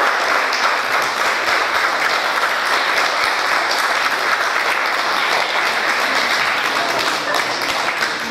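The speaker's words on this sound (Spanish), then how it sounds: "Fuerte el aplauso." Sustained, dense applause from a ceremony audience fills the whole stretch at a steady, loud level, with no break and no voices on top.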